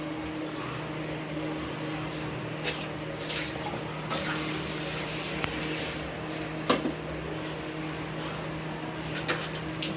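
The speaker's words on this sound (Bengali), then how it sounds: "এই পমফ্রেট মাছটাকে আমরা আগে ধুয়ে নেব।" Pomfret fish washed under running tap water, a soft continuous trickle and splash with occasional handling clatters and a faint background hum, no voices.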